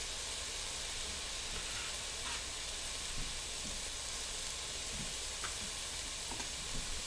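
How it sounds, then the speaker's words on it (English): Chard with its stems still on sizzles and hisses steadily in a sauté pan, a continuous close frying sound broken by a few faint scrapes of stirring. "I'm going to add the chard first, because it still has some of that stem in it."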